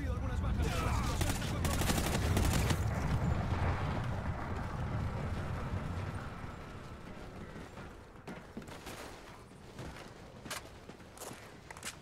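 Sustained covering gunfire in the Call of Duty Ghosts video game, with dense automatic bursts that start loud and then thin into scattered distant shots, while soldiers' voices talk over it.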